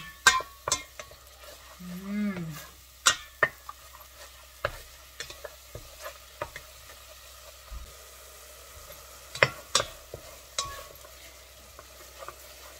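Spices sizzling softly in a pan as they sauté until fragrant, with a faint steady hiss broken by scattered clicks and scrapes of stirring.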